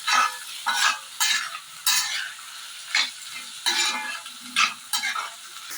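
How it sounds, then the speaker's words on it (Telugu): Crabs fry with salt in a pan in repeated loud bursts of sizzling and scraping, about seven rhythmic stirring strokes at close range with brief quieter gaps between them. "సాల్ట్ వేసుకొని దోరగా వచ్చేంత వరకు వేయించాలి"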